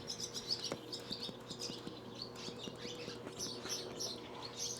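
A small bird chirps repeatedly outdoors, bright quick tweets in irregular bursts, fairly faint against a low steady background hum.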